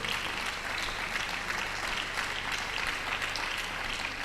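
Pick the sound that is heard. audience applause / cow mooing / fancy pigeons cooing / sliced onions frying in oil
audience applause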